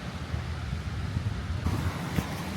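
Gusty wind outdoors on a warm, stormy day, a steady low rumbling roar buffeting the microphone throughout, with stronger gusts swelling near the end and no talking.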